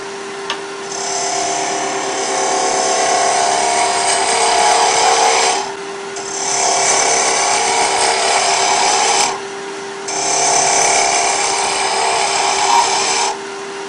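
A wood lathe spins a wooden peg person while a gouge cuts it, giving three long scraping passes with brief pauses between them over a steady motor hum.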